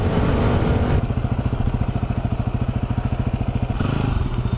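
A cold, not-yet-warmed-up Yamaha WR motorcycle engine revs loud and close, dropping into a rapid pulsing beat before climbing again near the end.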